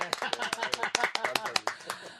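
A small radio-studio audience claps crisply to welcome an author guest on a Daejeon CBS broadcast. The claps are close, distinct and quick, irregular and bunched, lasting about two seconds.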